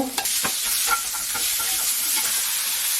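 Meat stir-frying in a preheated frying pan with a little cooking oil over moderate heat, a steady close sizzle with scraping stirs and small clicks of a utensil against the pan.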